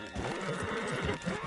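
Horse neighing in the Red Dead Redemption 2 video game, a loud whinny over busy clattering game sound with hoof-like clip-clop underneath, close and steady for the whole short stretch.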